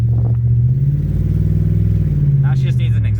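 An Audi's engine, freshly repaired with new transmission fluid and brakes but still lacking an exhaust, runs at a steady idle as a loud, close, continuous low rumble, with brief voices near the end.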